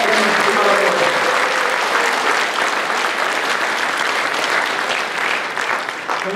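Sustained applause from a large audience fills a People Power Party members' convention in South Chungcheong, a dense, steady clapping that stays loud throughout before easing slightly at the end.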